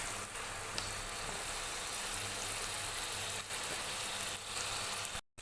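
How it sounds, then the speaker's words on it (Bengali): Teasel gourd slices frying in a pan with salt and turmeric make a steady, close, hissing sizzle that continues evenly, then cuts off abruptly at the end. "এগুলো নুন হলুদ দিয়ে ভালো করে ভেজে নেব।"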